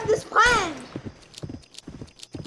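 Horse hooves clip-clopping in the Roblox western game Westbound, a steady run of soft rhythmic hoofbeats under excited shouting and a loud whinny-like cry near the start.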